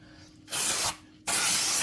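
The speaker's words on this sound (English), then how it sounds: "So I'm going to use a little bit of brake cleaner and a rag and wipe that off before we put it up there." Brake cleaner sprayed onto the front brake rotor of a 2016 Chevy Traverse in two loud, close aerosol bursts, the first lasting under half a second and the second starting after a brief pause.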